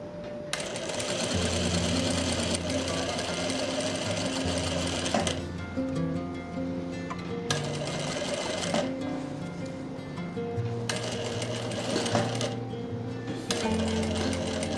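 A sewing machine stitches a zip into the back of a kurti, running in long steady bursts with brief pauses and restarts, loud and close throughout.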